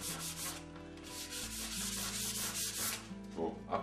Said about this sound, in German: noch mal irgendwo ein bisschen rauer, da ist noch ein bisschen